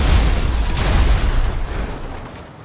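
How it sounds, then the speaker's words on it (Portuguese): A heavy booming RPG rocket explosion hitting an armored van in GTA 5, with a crackling burst that rumbles and slowly fades out over a couple of seconds. "ele não aguentou um tiro de RPG"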